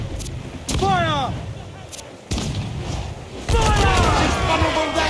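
Ship cannons fire a broadside in Assassin's Creed Black Flag, several heavy booms landing in quick succession with sharp onsets, while crew voices shout over the gunfire.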